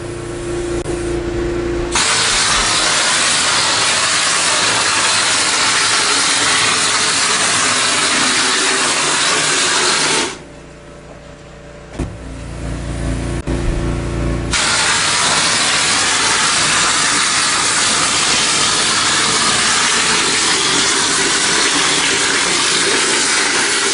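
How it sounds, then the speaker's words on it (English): An air compressor runs while a hopper sprayer blasts stucco onto a wall, making a loud, continuous rushing hiss that drops to a quieter lull for a few seconds midway, then resumes at full strength. "we've got the compressor up and running. I'm sure you can hear it there."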